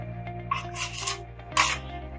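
A steel trowel scrapes and rasps across hardened plaster while skimming a plasterboard wall repair, two close, brief grating strokes over a low steady hum.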